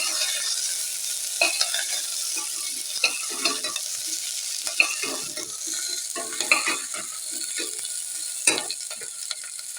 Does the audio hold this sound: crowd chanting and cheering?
no